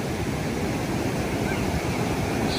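Ocean surf on a beach at South Beach State Park, Martha's Vineyard, with a rising tide, makes a steady, full wash of waves with no distinct breaks, close and constant.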